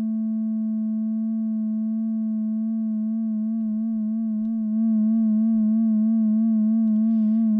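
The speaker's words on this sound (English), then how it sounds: "And now we're starting to hear that classic vibrato effect that John Chowning was talking about." Pure sine-like synth tone from FM synthesis in Bitwig Studio, held steadily while a slow vibrato wobble gradually grows in depth, clean and alone.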